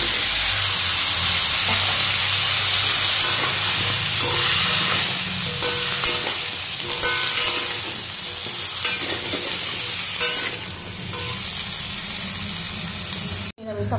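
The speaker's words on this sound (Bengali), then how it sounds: "নিরামিষ তরকারিটা ভালো করে ভেজে জল দিয়ে দিয়েছি" Mixed vegetables including papaya, potato, pumpkin, beans, eggplant and carrot frying for a vegetarian curry, a loud continuous close sizzle with stirring scrapes that softens slightly toward the end.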